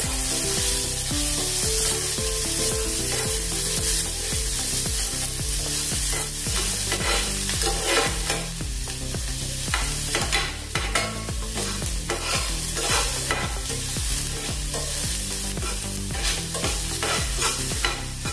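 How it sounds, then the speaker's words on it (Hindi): Onions with peanuts being stirred and fried in a pan while making instant suji dosa, with a steady sizzle and spatula scraping that run continuously under music. "अच्छे से हमने मिक्स भी किया है और 1 मिनट इसको भून भी लिया है प्याज को।"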